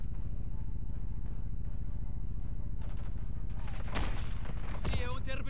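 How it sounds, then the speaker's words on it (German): Rapid gunfire from the video game Call of Duty Modern Warfare III, a steady stream of fast bursts throughout, with a louder crash of shots near the end and someone talking over part of it. "Der Beschuss."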